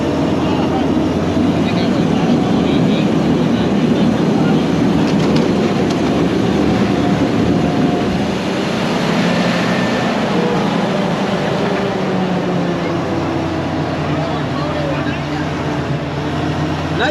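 Original 91-horsepower engine of an amphibious WWII-style army duck boat straining as it enters the water: a loud, steady low rumble with broadband splashing and rushing noise throughout, and voices talking over it.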